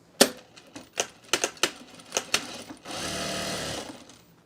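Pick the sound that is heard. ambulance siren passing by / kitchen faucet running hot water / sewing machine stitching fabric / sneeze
sewing machine stitching fabric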